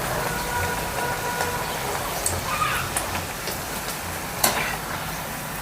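Food frying in oil in a home kitchen gives a steady, close hiss of sizzling with occasional small pops and crackles, continuous throughout, with no talking.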